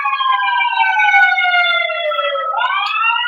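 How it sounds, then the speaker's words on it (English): A wailing emergency vehicle siren sweeps down in pitch then rises again, loud and steady with layered harmonics, as it passes close by outside. "sorry for the sirens out there."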